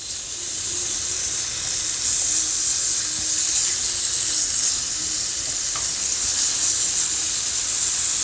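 Catfish pieces pan-frying in a hot pan give a loud, steady sizzle that holds evenly and continuously close up, with no talking.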